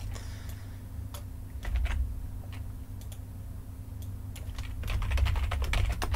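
Computer keyboard being typed on during a rigging software session: scattered light key clicks and taps over a low steady hum, growing a little busier toward the end.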